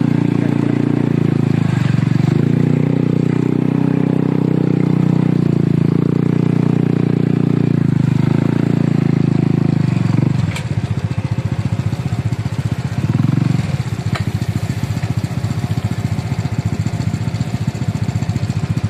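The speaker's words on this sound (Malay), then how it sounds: "kita dah dapat nak pergi menyeberangi sungai dengan motor" A motorcycle crossing a river, engine droning loudly and steadily at close range, with a rougher, choppier tone in the second half.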